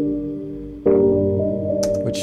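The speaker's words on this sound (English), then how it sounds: "It's going to sound like this if it's a low pass." Music run through a low pass filter in Ableton Live, a muffled sustained chord that swells in partway, with brief brighter bursts near the end, fairly close and without talking.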